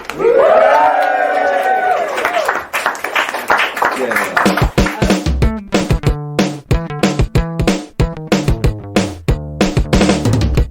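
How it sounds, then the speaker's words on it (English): A live audience cheers and shouts loudly at first, then settles into rhythmic synchronized clapping or stomping in a steady beat, close and energetic. "let's go and rank it now, guys. Let's get a cheer."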